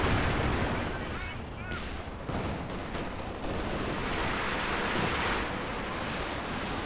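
A Panther tank and an SU-85 trade cannon fire amid artillery in Company of Heroes 2 on the Highway to Baku map. Dense, continuous rumbling barrages and blasts fill the whole stretch, with a voice talking over the din.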